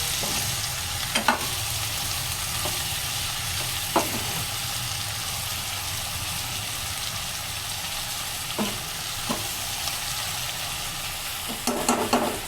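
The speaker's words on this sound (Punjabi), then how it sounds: "2 ਮਿੰਟ ਹੁਣ ਆਪਾਂ ਪਿਆਜ਼ ਭੁੰਨਾਂਗੇ" Onions frying in a pan for a quick aloo bhindi sabzi, a continuous close sizzle punctuated by a few clanks and scrapes of a spoon stirring against the pan.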